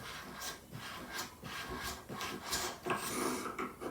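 An aluminum AR-15 handguard part being unscrewed by hand, with repeated rasping, rubbing turns in short rhythmic strokes, close and quiet, with no talking.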